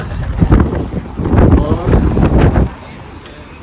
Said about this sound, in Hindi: शानदार हवा चल रही है, बहुत शानदार, क्या कहूँगा, बहुत किलर हवा है।